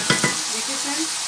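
Meat frying in a pot for Afghani Kabuli pulao, two quick scraping knocks of a spoon followed by an even, fairly loud sizzle, close up and without speech.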